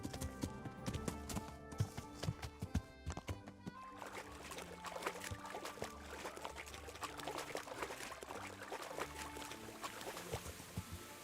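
Hooves of a horse galloping through water in the video game Kingdom Come Deliverance: steady splashing clip-clop with trickling, pouring water, dense and continuous over a busy background.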